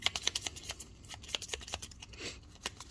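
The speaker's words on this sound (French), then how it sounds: "Donc c'est très simple, on va mélanger" Setup cards for the Final Girl board game shuffled by hand close up: a quiet, irregular run of soft flicks and riffling snaps, alone.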